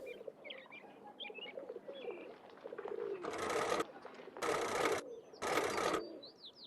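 Birds coo and chirp softly in the Nancy Drew Danger By Design video game, light calls at first, then three loud bursts of rushing, fluttering noise, like wingbeats, with more chirps between.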